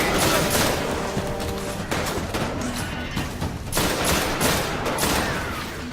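Dense gunfire in the shooter Destiny, with overlapping loud shots and impacts crackling continuously nearby, broken by a few sharper cracks, with no talking.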